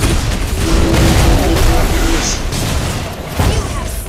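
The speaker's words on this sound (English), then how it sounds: "Your team destroyed the turret!" Deep booming blasts and crackling bursts as a turret is destroyed in the mobile game Mobile Legends, loud and layered with battle effects, a game announcer voice speaking over the din.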